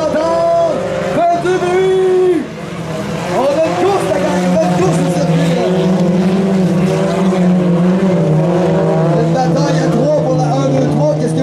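Four-cylinder jalopy race cars battle through the final lap of a qualifying race in St-Ferdinand, their loud engines whining and rising in pitch as they pass, with a commentator talking over them and a crowd murmuring.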